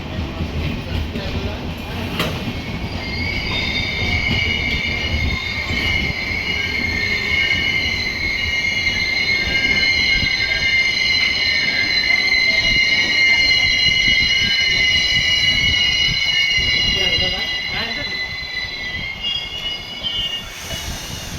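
The 07110 Banaras–Narasapur Kumbh Mela special express rolls slowly into platform 1 at Bhimavaram Junction, wheels squealing in long high tones over a heavy rumble that lasts throughout.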